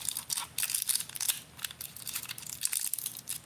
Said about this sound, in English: let's unwrap it let's go all the way.